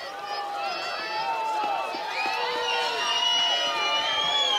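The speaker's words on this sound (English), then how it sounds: "Abington crowd cheering." A home crowd at a varsity high school football game between Abington and Pembroke cheers and shouts in a sustained, fairly distant swell, with voices rising and falling throughout.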